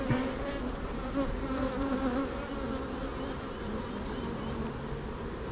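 Honey bee colony hums around lifted hive frames, a close, dense and continuous buzz that holds steady throughout with no speech.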